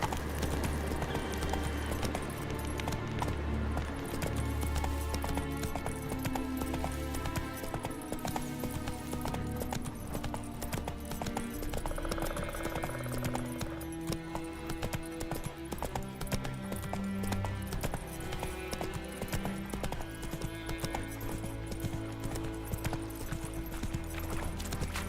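In The Witcher 3, a horse gallops with clip-clop hooves that run continuously beneath loud, sustained game music.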